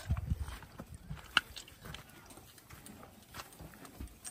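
Four horses eat hay together at a stable. Soft chewing and crunching with occasional hoof shuffles are quiet and close, with faint background sounds.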